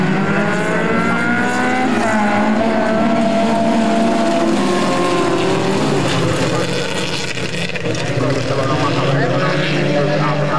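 Rally sprint cars pull away from the start at the Turkkimäki event with loud, revving engines that rise and fall in pitch, and a commentator talks over the roar throughout.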